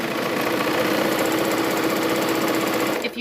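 A serger sewing machine runs steadily, stitching and trimming fabric at once with a fast, even mechanical whir close up, stopping abruptly near the end with a brief clatter.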